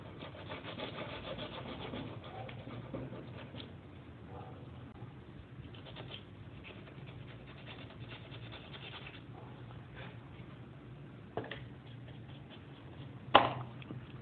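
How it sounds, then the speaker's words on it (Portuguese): Sandpaper rubbed back and forth over a carved wooden panel around the carving, a continuous soft scratchy rasping with a couple of sharper knocks near the end. "Estou tentando lixar essas partes em volta agora, como se fosse a placa inteira."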